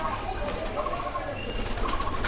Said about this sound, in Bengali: এটা হচ্ছে রাজশাহীর গিরিবাজ কবুতর।